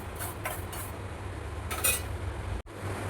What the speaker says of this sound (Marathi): आणि आता आपण भाजूया पिवळी मोहरी